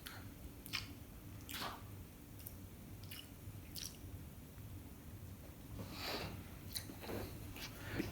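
A slice of sliced cheese being chewed close up, with soft wet squishy bites and smacking in an irregular rhythm, faint over a low background hum, no talking.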